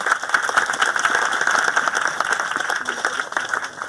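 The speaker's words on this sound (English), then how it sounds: "Yeah, we can round of applause." A crowd claps in a dense, continuous round of applause at an outdoor ribbon cutting, steady and fairly loud for several seconds with no clear voices on top.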